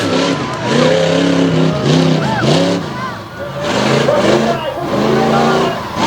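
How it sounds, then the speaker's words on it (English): The Team Nasty Ford Bronco monster truck rolls through loose loam on a dirt track at a 2021 monster truck show in Bangor, Maine. Its loud engine rises and falls in surging revs under continuous announcer commentary. "the Team Nasty Ford Bronco rolls around in the loam down on the low side of the track"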